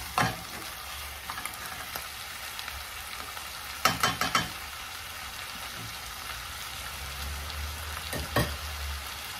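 Chicken frying in a pan in a home kitchen, giving off its own water as it cooks: a steady low sizzle runs throughout, with a few sharp stirring scrapes and clatters near the start, middle and end, and no voices.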